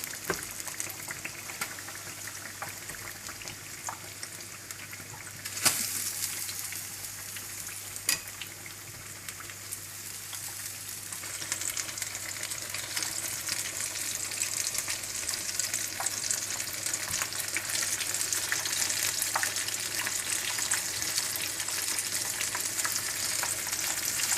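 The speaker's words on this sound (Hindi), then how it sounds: "अब इसको अच्छी तरह से फ्राई कर लें।" Fish for Lahori fish fry frying in hot oil, a continuous dense crackling sizzle that grows fuller and louder partway through, with occasional clinks of a utensil.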